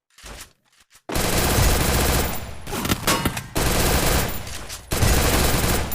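Rapid automatic gunfire in the battle royale video game Free Fire, loud, close bursts of dense repeated shots with short pauses between volleys and no talking.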